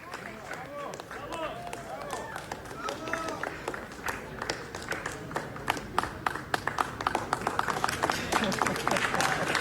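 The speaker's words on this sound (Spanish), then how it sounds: "el príncipe te aplaudió" A festival audience applauds a child at a film festival in India, with scattered claps growing denser and louder while people talk and murmur over them.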